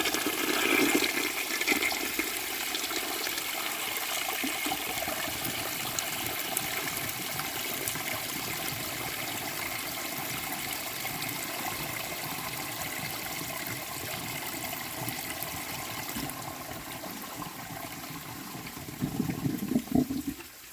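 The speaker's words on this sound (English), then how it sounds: "Alright, the tank's overfilled, let's give it another flush." A life-size clay toilet with a concealed siphon jet flushes in a long, steady rush of water that churns close and loud for about twenty seconds, ending in a brief gurgle as the bowl drains.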